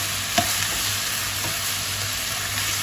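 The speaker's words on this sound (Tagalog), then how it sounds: "Tapos fry ulit." Onion and carrot sizzle steadily in a hot pan, a constant crackling hiss with a couple of soft utensil taps near the start.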